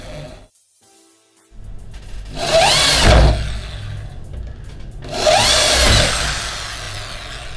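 A Bosch GSB13RE household power drill spins up in two loud, close bursts, each rising quickly in pitch to a steady whine and then winding down, with quiet pauses around them and no talking.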